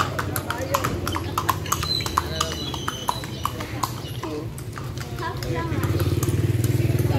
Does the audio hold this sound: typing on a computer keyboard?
no